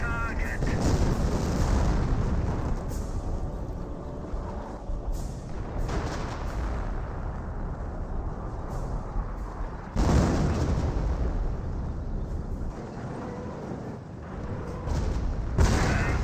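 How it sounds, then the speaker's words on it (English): Howitzer artillery barrage in the Company of Heroes video game, a continuous loud roar of booming explosions and rumbling blasts with a few sharper hits, layered densely under a voice commentating. "They got some nice howitzer barrages there onto the Panther."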